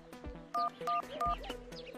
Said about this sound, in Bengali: দাদুকে একবার ফোন করে দেখি।